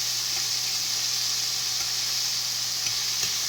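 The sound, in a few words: chicken frying in peanut oil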